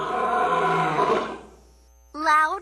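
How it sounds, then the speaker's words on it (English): A recorded lion roar from a 2013 VTech Touch and Teach Word Book toy plays as one loud, rough, sustained roar that fades out, followed by a short burst of a voice. "Loud lion."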